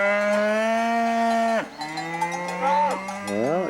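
Cows moo loudly and close in Asker, Norway, one long drawn-out low call followed by overlapping moos that rise and fall, with bells clinking faintly behind.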